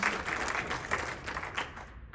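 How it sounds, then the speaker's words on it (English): Audience at a Surry County GOP candidate forum for the North Carolina House, giving a short burst of steady clapping from a small room crowd that fades at the end. "I think we owe these 3 gentlemen a round of applause."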